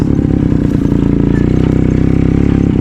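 A motorcycle engine idles and runs steadily up close on a farm track, a loud continuous throbbing drone with some rattling clatter and no talk.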